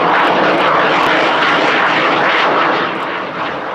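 A US Navy F/A-18 Super Hornet jet flies a slow high-alpha pass at an air display, giving a loud, steady, broadband engine roar that holds throughout and eases slightly near the end.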